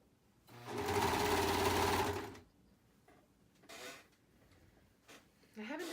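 A sewing machine runs a long straight seam on an adult hoodie, whirring steadily for under two seconds at close range. Then come quiet handling noises and brief rustles.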